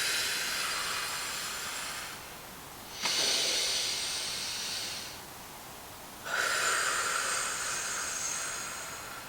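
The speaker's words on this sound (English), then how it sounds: "you'll feel all the air rush out through your nose" Forceful exhalations through the nose during a stress-relief breathing exercise: long, airy, close whooshes, with quieter breaths in between and no talking.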